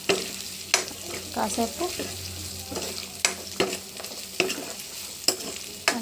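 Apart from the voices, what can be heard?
cooked dal stirred into cucumber in pan, sizzling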